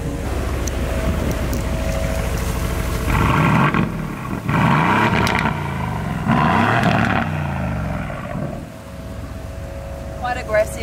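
Aston Martin Vantage with a Mercedes-AMG V8 in Sports Plus mode, revving hard in three loud surging bursts over a steady roar, with sharp crackles near the end.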